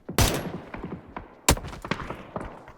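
Gunfire rattles in a PUBG match, with two loud close bursts at the start and midway and rapid scattered shots between them, without talk.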